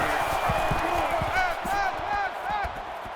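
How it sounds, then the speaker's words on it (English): A roaring stadium crowd in the NCAA 14 college football video game during a Penn State at Ohio State game, a dense steady wash of cheering with whoops rising above it, loud and continuous. "And this crowd is going absolutely crazy."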